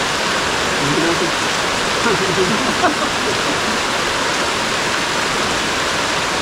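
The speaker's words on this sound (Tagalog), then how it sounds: "lakas po ng ulan." Heavy rain pours down steadily during the rainy season, a dense, even hiss filling the whole clip with only brief faint voices in the background.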